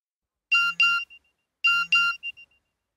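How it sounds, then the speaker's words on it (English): A mobile phone gives a message alert: two bright electronic double-tone chimes about a second apart, each pair followed by short trailing blips, clear and close against silence. "My mobile phone beeped."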